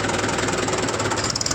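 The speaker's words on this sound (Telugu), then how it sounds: "అరే అరే అరే అరే అరే ట్రాక్టర్లు వేసుకుపోతారా?" A tractor engine runs nearby with a steady, rough chugging throb that is moderately loud and continuous, with no talk over it.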